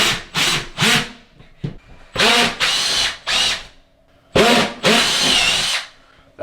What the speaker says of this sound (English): I drilled the hole too big, pushed the anchors right through the wall